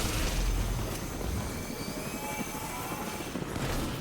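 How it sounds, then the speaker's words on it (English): A teleporting sound effect from the video game Destiny 2 gives a steady, rumbling whoosh with a broad airy wash that swells slightly at the start and end, heard on its own without talk. "Why am I hearing the teleporting noise?"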